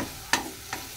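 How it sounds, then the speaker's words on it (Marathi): Green chillies with ginger-garlic paste roast in a pan for spicy veg chili, giving a soft sizzle under two quick spatula scrapes, close and brief, with no talking. "मिरची भाजून घेऊया आपण."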